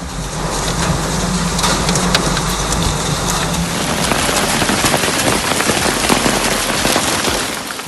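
A violent storm batters a Saudi desert town with heavy rain and hail, a loud, dense roar of water on surfaces peppered with sharp, crackling impacts, a low rumble underneath, and no talking.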